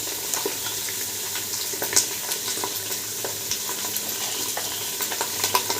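Garlic, onion, ginger and green chillies sizzle in a hot pan, a steady close frying hiss with occasional stirring scrapes and small pops, no voices.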